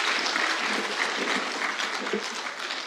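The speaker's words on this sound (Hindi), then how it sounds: "जोरदार तालियों से उनका इस्तकबाल किया जाए।" Dense, loud applause from an audience at a poetry gathering welcoming the poet Abbas Qamar, a continuous roar of clapping sustained throughout with no gaps.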